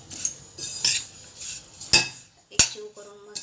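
Raisins roasting in a pan for modak, stirred with a metal spoon that gives sharp clinks and scrapes against the pan in uneven bursts, close up with no talking.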